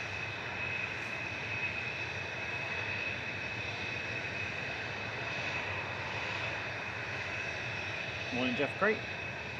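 TUI jet airliner departing Manchester Airport for Girona, a steady engine hum in the background while a person speaks briefly near the end.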